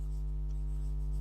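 Writing on a board during a lecture: a brief scratchy stroke sound sits over a steady, loud electrical hum, with no talk.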